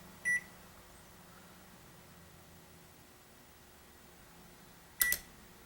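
A microwave oven in a repair shop counts down its cook time, giving two short electronic beeps, one near the start and one near the end, over a faint steady hum and background hiss.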